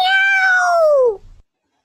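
A single drawn-out meow, loud and close, sliding downward in pitch before trailing off into silence.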